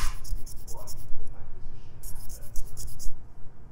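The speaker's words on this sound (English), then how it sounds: "I'm just gonna grab my scissors, and I'm just gonna scrape" Scissors scraping along the edge of a wooden spoon being shaped, a raspy rhythmic scratching in quick repeated strokes close by, with a soft low background hum.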